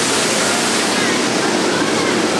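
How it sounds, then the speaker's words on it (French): Waterfalls at SeaWorld Orlando, Florida, roar in a loud, steady broadband rush of falling water that fills the whole short span. "Il y a des cascades d'eau partout"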